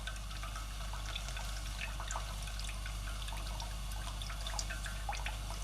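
Pan juices from cooked BBQ ribs poured out of a fat separator, a steady trickling pour with faint drips over a constant low hum.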